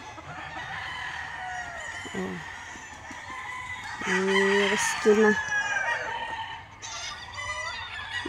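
On a rooster farm, a rooster crows loudly nearby in one drawn-out call, with fainter crowing and clucking from other fowl around it. A person speaks briefly.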